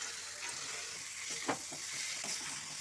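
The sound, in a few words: potatoes and fried soya chunks sizzling in masala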